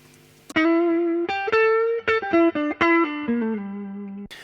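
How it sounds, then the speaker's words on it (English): Re-amped tonal instrument notes with a heavy delay echo effect, several sustained pitched phrases repeating and trailing into one another, loud and distorted with no talking. "That's now very delayed. That's actually applying a complete echo to it."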